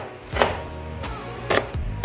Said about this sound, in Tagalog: Gihiwa na ako ng sibuyas at saka ng bawang.